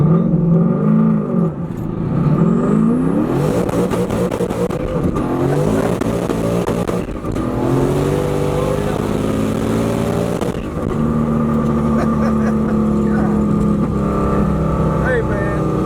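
A 500+ hp turbocharged Camaro accelerating on a street, its engine note rising and falling through several pulls with gear changes, loud and close, while people talk over it at times.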